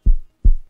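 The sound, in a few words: pounding heartbeat sound effect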